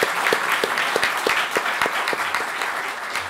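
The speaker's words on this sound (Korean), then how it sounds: "큰 박수 한번 보내주시기 바랍니다" Audience applause at a Korean political party event welcoming a former emergency committee chair, a full steady round of clapping from a large crowd with some sharper individual claps standing out.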